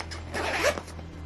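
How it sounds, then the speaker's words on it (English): A zipper on a school bag is pulled open in one quick, close rasping stroke, scratchy and fairly quiet, with no talking. "properly unpack your school bag"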